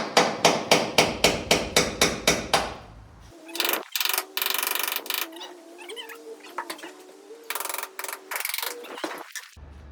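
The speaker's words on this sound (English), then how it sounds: "Using a tapered punch." A tapered punch is hammered on seaplane float bolts, giving about a dozen rapid, evenly spaced metallic strikes that ring loudly up close, followed by a stretch of high screeching, squealing metal noise.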